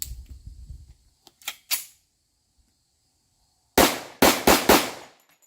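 A Girsan 1911C pistol in .45 ACP fires Federal jacketed hollow points outdoors, a couple of sharp reports followed after a pause by a rapid string of four loud, close shots.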